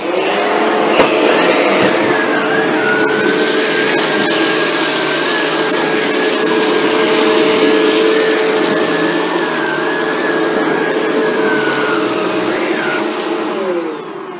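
A Shark Rotator NV752 upright vacuum cleaner runs steadily at close range, a loud continuous motor whine with a sustained high tone, uninterrupted for the whole stretch without any talking.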